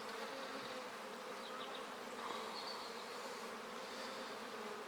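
Honey bees buzz in a dense, steady hum, close by and continuous, with individual wingbeats flickering over the drone; no one speaks.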